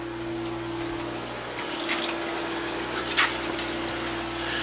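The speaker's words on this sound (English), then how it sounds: "You can see all the bubbles. So I got oxygen going all over the place." Air bubbling in an aquaponics fish tank, a constant watery churn over a low steady pump hum, with a few brief louder splashy bursts.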